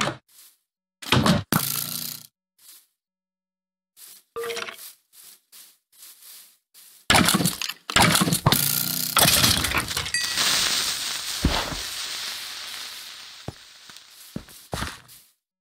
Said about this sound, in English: I am in our house and I can hear exploding